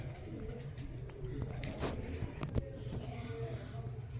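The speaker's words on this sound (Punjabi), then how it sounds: "ਲਓ ਜੀ ਆ ਗਏ ਆਪਣੇ ਆਹ ਕਬੂਤਰ" Pigeons kept for flying and racing coo softly and steadily at close range, a low continuous murmuring with a few sharper sounds and faint background noise.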